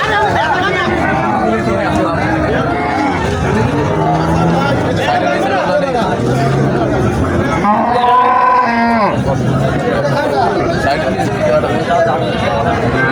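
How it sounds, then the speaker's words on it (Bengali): Cattle lowing at a busy livestock market where Sahiwal cows and young heifers are being sold; repeated moos rise out of a dense crowd hubbub with constant chatter, one long loud bellow standing out midway. "আরো প্রচুর গরু আসতেছে বাজারে বিশেষ করে ছোটো ছোটো বকন আসছে"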